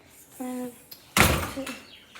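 A door is pushed shut indoors in one loud, sharp close that trails off, after a short creak. Soft incidental noises sit around it and nobody speaks.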